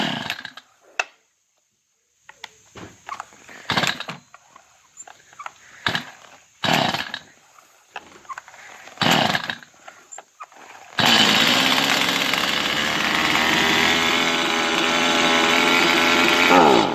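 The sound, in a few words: Stihl MS210C chainsaw engine started by recoil pull, idling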